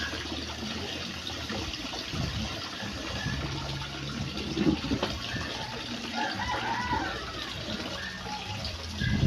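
Water runs steadily from a tap during rinsing, a constant gushing wash with brief louder splashes and a faint voice in the background.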